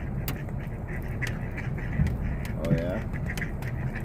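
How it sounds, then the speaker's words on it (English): Ducks quack outdoors, a couple of nasal calls close by among a steady background of ambient noise, with a person speaking briefly. "Quack, quack, quack, quack, quack, quack."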